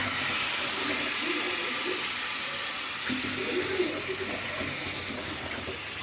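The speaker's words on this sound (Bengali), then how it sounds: "এবারে আমি টকটাতে জল দিয়ে দেবো" Water splashes and hisses steadily as it is poured into a cooking sour mango fish curry seasoned with turmeric, salt and a little sugar, a constant rushing sound with no talking.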